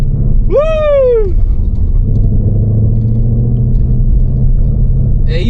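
Manual S650 Ford Mustang GT rumbling as it pulls away, a steady low engine drone throughout with a brief rising whoop-like tone early on, heard from inside with no talk over it.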